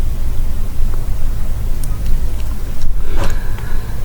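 Road traffic on the Dhaka-Chittagong highway near Sonargaon rumbles steadily and loudly, a broad low roar of passing vehicles with a brief higher tonal whine near the end.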